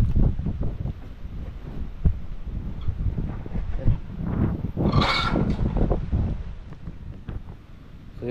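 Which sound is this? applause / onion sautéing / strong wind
strong wind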